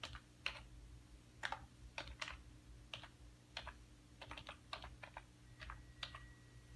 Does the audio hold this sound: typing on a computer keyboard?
yes